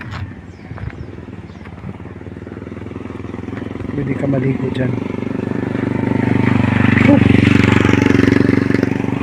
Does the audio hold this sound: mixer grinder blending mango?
no